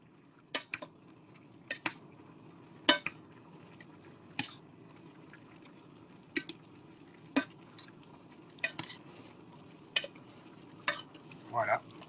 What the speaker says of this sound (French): On va venir mélanger.